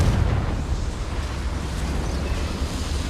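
Explosion spell Confringo cast in the Hogwarts Legacy video game, giving a heavy, rumbling low-end blast that stays loud and sustained for a few seconds before easing off.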